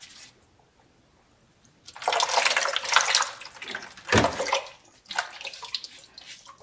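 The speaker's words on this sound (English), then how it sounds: "just take the distilled water and just pour it over the mirror" Distilled water is poured over a telescope mirror. After a quiet start, a loud, close splashing pour runs for several seconds, breaks off briefly, then resumes.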